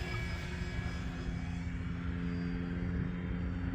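An E-flite T-28 1.2m electric RC model plane flying outdoors on a wet day near snow, a steady droning whine with constant loudness throughout, no talk.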